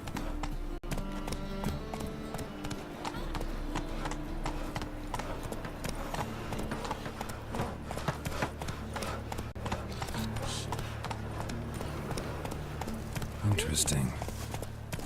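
Roach, a horse in The Witcher 3 video game, galloping with quick rhythmic hoofbeats throughout, set under steady game music and occasional voices.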